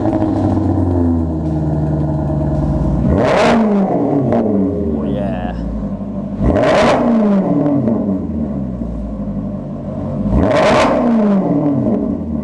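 A Maserati Quattroporte V8 fitted with an aftermarket exhaust revs three times, each sharp loud blip rising and falling back to a steady idle rumble, spaced a few seconds apart.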